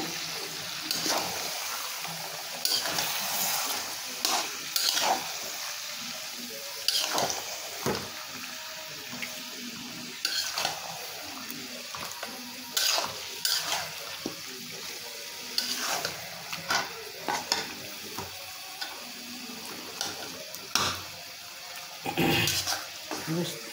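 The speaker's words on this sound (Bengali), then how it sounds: "গোস্তটা ভালো করে মিশিয়ে আমি কিছুক্ষণ কষিয়ে নেব।" Meat being stirred and sautéed in a pan, with steady frying sizzle and repeated scraping, clanking stirs at an uneven rhythm, close and moderately loud throughout.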